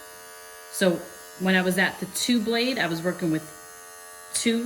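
Electric hair clipper fitted with a 1 guard buzzes steadily as it trims edges and corners during a home haircut, its hum running under a voice that talks over most of the clip.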